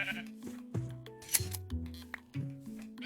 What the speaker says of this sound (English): I thought that was a sheep too.